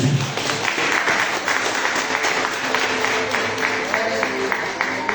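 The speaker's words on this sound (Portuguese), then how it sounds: "Uma salva de palmas para Jesus Cristo" Church congregation applauding together after a pastor calls for a round of applause, a steady, dense clapping wash that holds for several seconds at a fairly loud level with faint voices mixed in.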